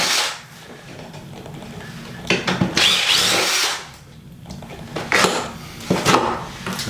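A power drill unscrews hammer fixings from a wall during a nursery renovation, whirring in several bursts of varying length with brief pauses between and faint clinks of metal and wood, close by, with no talking.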